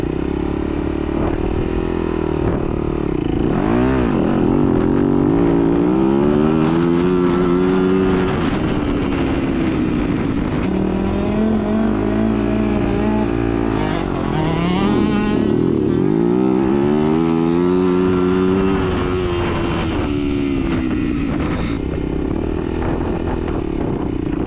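A motocross dirt bike engine revs continuously during start practice, pitch rising and falling through repeated throttle blips and surges, loud and close throughout.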